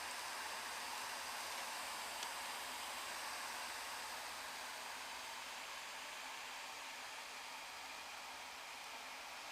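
A Dyson AM04 Hot+Cool fan heater runs steadily, producing a faint, even airy hiss of blowing air with no change across the whole stretch.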